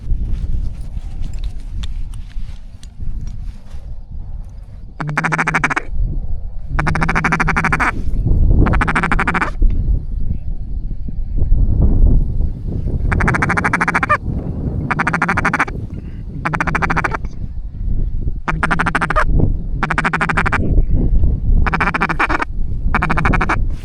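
Mallard ducks quack near a hunting blind in repeated loud, close bursts of several quacks each, separated by short pauses, over faint background noise.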